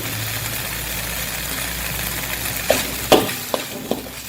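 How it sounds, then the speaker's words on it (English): Pucuk paku fern shoots fry in a pan on a low to medium heat, a steady soft sizzle running throughout, with a few sharp stirring clinks and scrapes near the end. "and continue frying it"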